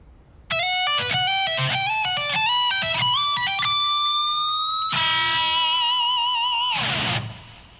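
Slow shred lick on a distorted electric guitar: quick stepping runs of bright sustained notes, then a long held note and a ringing, wavering finish before fading out.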